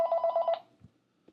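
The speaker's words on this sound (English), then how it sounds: "I got a phone call, so let me cut this off and I'll be right back." A telephone gives one short, rapid trilling ring burst up close, followed by a couple of faint knocks and near silence.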